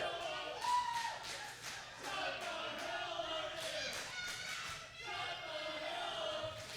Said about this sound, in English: Crowd now beginning to chant, mimicking Nick.